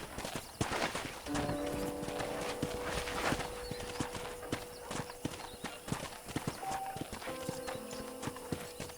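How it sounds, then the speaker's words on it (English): Horse hooves clip-clopping at a walk on a ranch in Red Dead Redemption, a steady, fairly close rhythm of hollow knocks with faint tonal background music and light ambient sounds underneath. "I picked out a fine horse for you."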